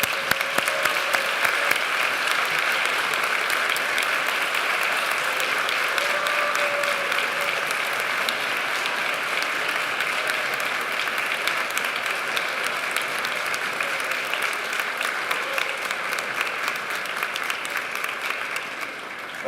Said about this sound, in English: show your gratitude with a heartfelt round of applause